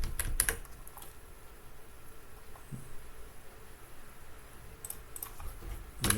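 Code is typed on a computer keyboard, with clusters of sharp key clicks at the start and end and a quieter stretch of faint tapping between them, close and with no speech.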